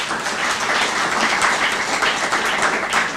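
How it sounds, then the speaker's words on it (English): Outdoor audience applause at a groundbreaking ceremony for The Artisan, a thick steady clapping sound that stays even and fairly loud for the whole stretch. "Can we give him a round of applause?"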